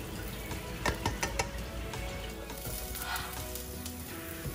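Garlic and ginger frying in oil in a pan for an udon stir fry, a steady close sizzle with a few sharper clinks of stirring near the start.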